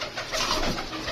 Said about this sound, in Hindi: सियालकोटी है, बटेरे कबूतर हैं सारे के सारे